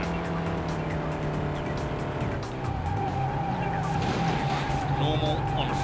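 Car tumbling and skidding on a freeway in the PS1 racing game Vanishing Point: a continuous loud engine roar with tire skids and scraping, including a pitch sweep in the middle, runs throughout with some voice underneath.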